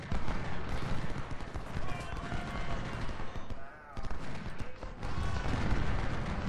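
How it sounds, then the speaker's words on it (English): Massed musket fire from Civil War brigades at First Bull Run in the game Ultimate General, ragged volleys and crackling shots rolling continuously at mid distance, with a voice speaking over the battle. "Bartow's firing at somebody."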